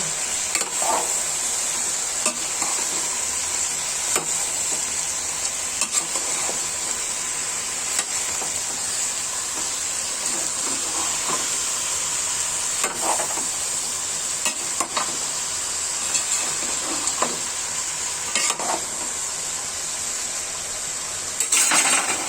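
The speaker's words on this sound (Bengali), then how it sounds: "নেড়ে দিব" Bitter gourd frying in a pan with chillies and salt, stirred steadily; a continuous bright sizzle runs throughout, with intermittent scraping clinks of a spatula against the pan, close and fairly loud, no voices.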